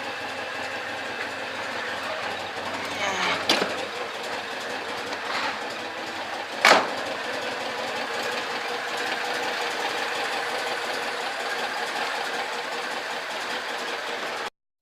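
An AK 400 engine runs steadily after a warm restart, a continuous even drone with a fast mechanical clatter, interrupted by two brief sharp knocks.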